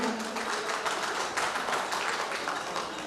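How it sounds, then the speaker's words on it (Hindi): Audience applause at the Astitva Matri Shakti Samman 2022 award ceremony, a dense, steady wash of clapping from many hands that holds evenly throughout without speech. "तालियों की गूंज कम नहीं होनी चाहिए, तालियां बजती रहे"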